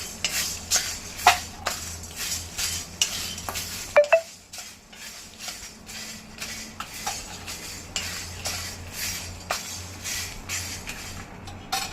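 Whole cardamom pods stirred into a pan while making homemade biryani masala, giving repeated close scraping and clinking of a spoon against metal, with soft rattling of spices between strokes and no voices.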